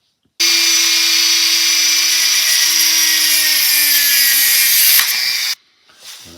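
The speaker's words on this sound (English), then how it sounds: "I'll take my Dremel tool with the grinder in it and make a little fork in it." A Dremel rotary tool with a grinding bit cuts a fork into the end of tie wire, a loud, close, steady high whine that holds for about five seconds and then stops abruptly.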